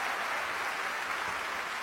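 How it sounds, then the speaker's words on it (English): Applause from the audience at the NASCAR awards ceremony in Nashville, a steady dense wash of many hands clapping, heard at even loudness without talk. "That's a clap moment."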